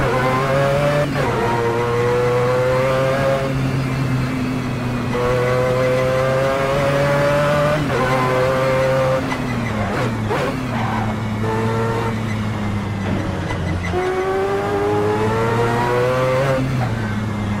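Mazda 787B race car from a video game lapping the Nordschleife, its engine revving loudly and continuously through rising gear pulls and downshifts, with brief tire squeal over the curbs and no talk.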